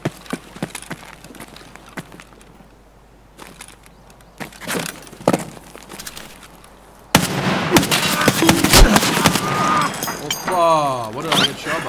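Gunfire in the video game Escape from Tarkov, with sharp sporadic shots and impacts, then a dense, loud burst of shooting and chaotic movement noise in the second half.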